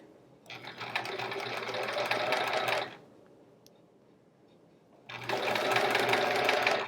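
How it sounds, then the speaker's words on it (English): A sewing machine stitches quilt half square triangles in two steady bursts of close, rapid running, separated by a pause of near silence as the fabric is turned. "we're just going to rotate it so that we're now sewing on that other side."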